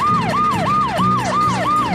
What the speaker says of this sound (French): papa roulait très vite avec la sirène